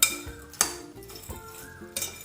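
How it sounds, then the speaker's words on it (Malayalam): Vadukapuli lemon pickle stirred with rock salt in a container, a utensil clinking and scraping against the sides in a few sharp, close knocks amid softer stirring. "ഇതേപോലെ നന്നായിട്ടൊന്ന് മിക്സ് ചെയ്ത് കൊടുക്കാം."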